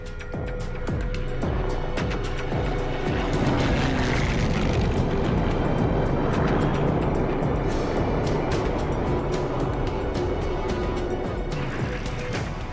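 Aircraft engines in Pacific war combat footage, a steady loud droning roar holding throughout, like fighter planes passing close overhead, with no voices.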